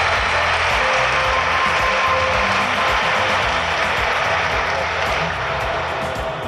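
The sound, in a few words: audience applause at ceremony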